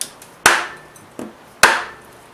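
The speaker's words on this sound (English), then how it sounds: "I'm gonna give it a tap with an old dead blow, see if that loosens it up" An old dead blow hammer taps an LS engine part during a retro engine build, with four sharp knocks spaced irregularly, two loud and two softer, each ringing briefly in a quiet workshop.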